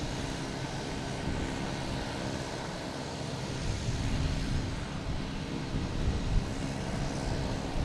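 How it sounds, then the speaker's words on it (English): A JetBlue Airbus A320 departs runway 15 right at Boston Logan with a steady, broad jet engine roar at moderate distance, mixed with wind noise. "We got a JetBlue coming out of nowhere here"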